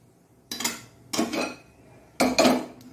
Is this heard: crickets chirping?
no